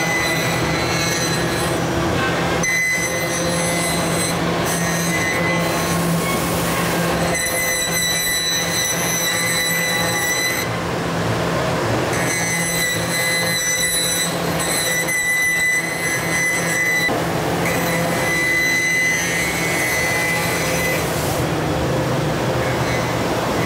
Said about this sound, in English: the operator takes the guitar and cuts the rabbet in it for the actual slot to glue the plastic edge binding in